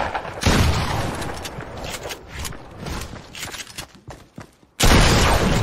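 Video game gunfire in a dense, loud barrage of rapid shots, broken by a brief silence and then a sudden loud burst at the end.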